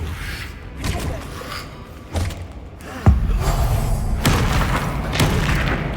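Confringo blasting curse exploding in the Hogwarts Legacy video game, a series of heavy booms and thuds with sharp impacts and rumbling debris, the strongest blast landing midway and followed by sustained rumbling.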